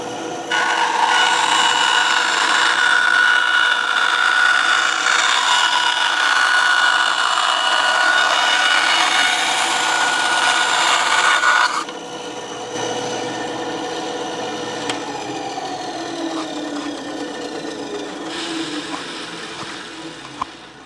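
Bandsaw cutting a Kydex sheet for a holster, a steady loud whining cut for about twelve seconds, then the blade noise drops as the saw winds down and runs quieter.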